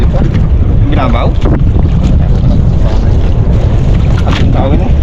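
Strong wind buffets a small fishing boat out on the water during handline fishing, a constant loud roar of gusts and microphone rumble with faint voices talking underneath.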